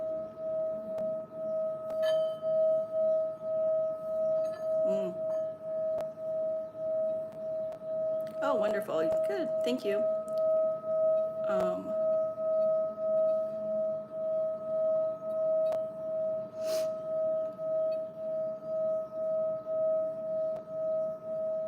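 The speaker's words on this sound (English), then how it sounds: "So as I'm playing this bowl" A singing bowl rings with a steady sustained hum and shimmering overtones throughout, fairly faint, while occasional clinks and a brief spoken exchange break in.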